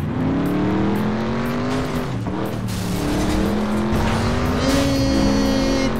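Race cars in a video game, engines revving and whining loud and close as one car closes in to overtake, pitch climbing and shifting over a constant roar.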